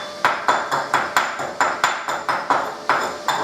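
A chipping hammer knocks slag off a dual-shield flux-cored weld bead, a dozen sharp metallic taps in an even, quick rhythm, close and with no talk.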